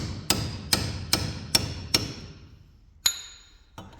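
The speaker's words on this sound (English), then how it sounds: "we started hammering this one completely apart, and we have a new joint" A hammer striking a car drive shaft joint to knock it apart, five sharp metallic blows in an even rhythm, then a pause and two more hits, close and loud.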